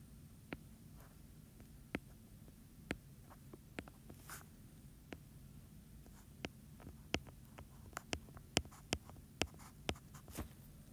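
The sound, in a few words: pencil writing on paper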